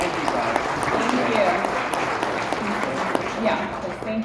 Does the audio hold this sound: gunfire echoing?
no